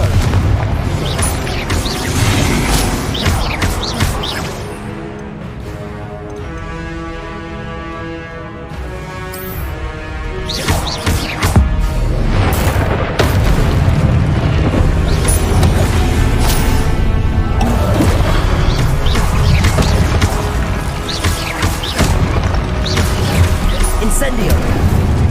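Confringo explosive spells blast repeatedly in Hogwarts Legacy, heavy booming bursts spread across a long stretch of combat, loud and punchy, with spell shouts and talk overlapping the blasts.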